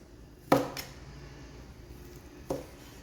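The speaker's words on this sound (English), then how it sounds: "I just take my Serbian chef's knife and slice it thin." Leftover 10–12 ounce strip steak being sliced thin with a Serbian chef's knife on a board: two sharp, separate cutting knocks about two seconds apart, close and clear against a quiet kitchen.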